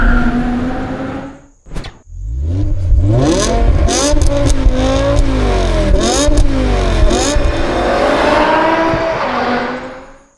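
A BMW E60 M5's V10 engine revs hard and close, climbing repeatedly through rising and falling howling sweeps after a brief blip, loud and sustained until it cuts off.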